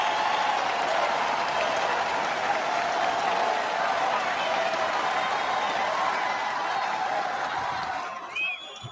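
A large crowd cheers and applauds steadily throughout, a dense continuous roar of clapping and voices that fades slightly at the end.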